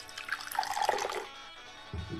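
Svyatoy Istochnik mineral water with active minerals is poured in a short, close splashing stream that fades after about a second, with no talk.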